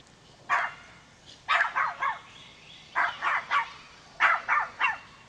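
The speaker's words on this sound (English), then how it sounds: "Video footage of a dog." A dog barks in three quick clusters of two or three sharp yips and barks, fairly close and clear over a quiet background, with no talking.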